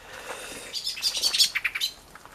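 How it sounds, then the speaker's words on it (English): Birds chirp and twitter in a quick burst of high, bright notes, fairly close, with no talking. "Listen to the birds."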